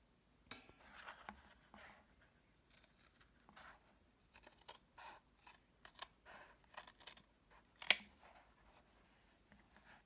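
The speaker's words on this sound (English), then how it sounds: "then I'll cut it out with my canary scissors" Canary scissors cutting a sandal band from thick leather, a series of short crisp snips and crunches at an irregular pace, close and quiet, with one sharper louder snip near the end.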